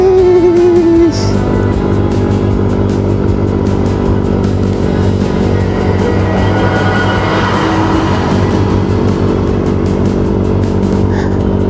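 A large truck climbs a steep mountain road in Dingalan, Aurora, its engine droning loud and steady with a low rumble, heard from close by over a motorcycle's running engine.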